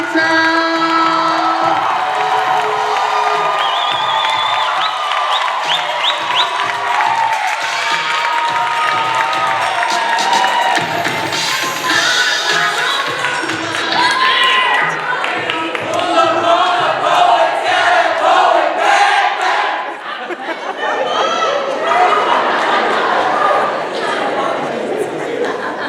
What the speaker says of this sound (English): Let's keep the applause going, right?